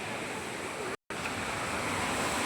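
Water rushes forcefully at a temple site during the rainy season, a dense, steady roar close to the microphone, broken by a brief dropout near the one-second mark.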